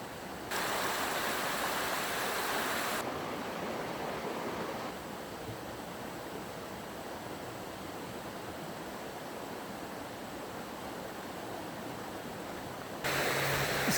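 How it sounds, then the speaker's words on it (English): A creek flows beside a hiking trail in a state forest, giving a steady, broad rushing wash of water that holds constant throughout, with slight level shifts as the walker moves along. "This is my favorite part so far, just walking along the creek."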